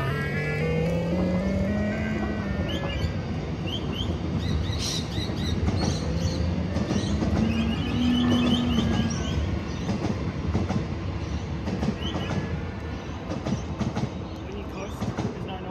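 An Inmotion V12 electric unicycle rides along after a firmware update, its motor giving off electronic whines that slide up and down in pitch over steady road and wind rumble.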